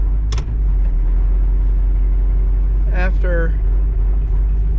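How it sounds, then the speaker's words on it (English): A Chevrolet Malibu backs out of a driveway with a low, steady engine rumble running throughout, while a person speaks briefly over it. "I'm backing out of my driveway"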